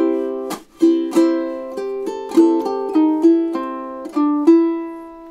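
Measures three and four of a song strummed on a ukulele: a handful of clear, ringing chord strokes in a bouncy, uneven rhythm, close and alone without any voice.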